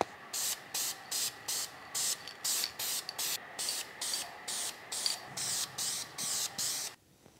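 Short, evenly spaced bursts of an aerosol spray can hiss one after another inside a cramped garage while light coats of paint go onto a Land Rover LR3 vacuum pump bracket, ending with a brief stillness.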